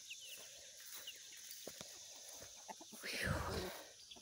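Chickens, including young birds, give soft scattered clucks at a distance under quiet rustling and background noise, with a brief louder burst of movement near the end.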